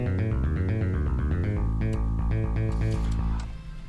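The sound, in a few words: bass line from a Golden Sun battle theme intro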